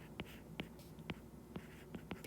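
Handwriting during a classroom physics lesson on elasticity, with soft, faint pen or chalk strokes tapping at a steady pace in a quiet room.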